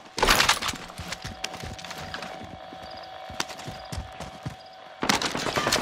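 Video game gunfire comes as loud bursts of rapid shots at the start and end, with scattered single shots and mechanical clatter between them over a steady background tone.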